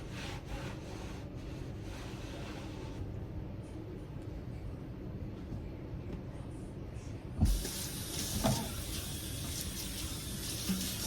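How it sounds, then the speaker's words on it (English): A kitchen stove hood being wiped down with steady close rubbing and swishing that runs throughout, growing brighter in the second half, with a couple of soft knocks near the end. "I'm going to wipe down the hood of my stove over here"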